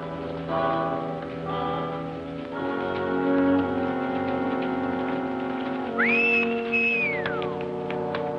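A person whistles a rising then held high note, then slides it down, over a busy background of music-like tones.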